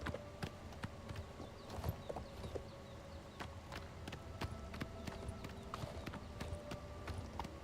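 Rapid rhythmic hoofbeats of a galloping horse in the video game Elder Scrolls: Oblivion Remastered, steady clip-clop over a faint background, moderately quiet and continuous.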